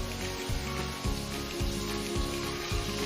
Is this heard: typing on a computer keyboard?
no